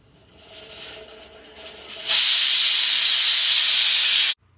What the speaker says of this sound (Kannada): ಅನ್ನ ಮಾಡೋದಕ್ಕೆ ಅಂತ ಕುಕ್ಕರ್ ಇಟ್ಕೊಂಡ್ರು ಅಮ್ಮ